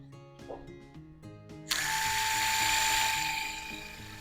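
A surgical drill spins up and runs a bit over a guide wire during a simulated bunion correction, a sharp high whine starting abruptly after a few faint clicks and holding steady before tapering slightly.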